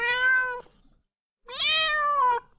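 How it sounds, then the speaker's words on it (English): An AI-generated cat meow sound effect plays twice, two drawn-out, clear meows separated by a short silence, close and loud with no other sound. "our cat meow is right here. Number four, let's play that again."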